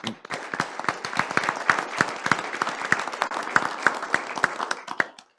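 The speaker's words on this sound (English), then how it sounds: "Let's give them a big round of applause." A modest group at a City of San Juan commission meeting gives the San Juan Royal Court a round of applause, individual claps standing out crisply in an uneven, close patter that stops abruptly.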